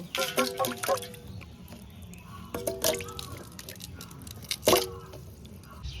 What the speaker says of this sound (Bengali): কচুগুলো এবার ধুয়ে নেব